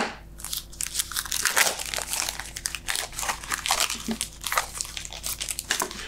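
Crinkling and crunching of card-making supply packaging, holding envelopes and note cards, being handled and torn open, close up, in irregular bursts with a low steady hum underneath.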